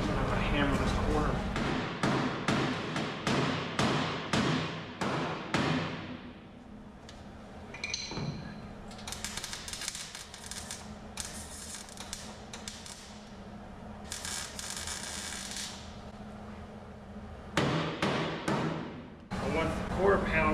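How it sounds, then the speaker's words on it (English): Repeated sharp metallic hammer blows on the rear quarter panel corner of a 1967 Shelby GT500 Mustang during restoration, a quick burst of close, loud strikes at the start and another cluster near the end, with workshop noise between. "I'm gonna hammer this corner."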